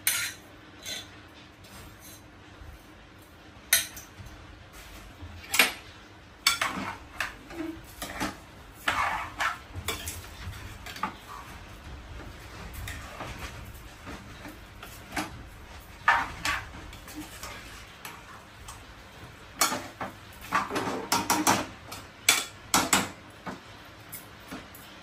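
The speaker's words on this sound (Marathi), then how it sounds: "मी ना त्याच्यात तांदूळ मिक्स करते." Rice stirred into biryani in a metal pot, a spoon scraping and knocking against the sides in repeated irregular clinks and scrapes, close and fairly loud, no voices.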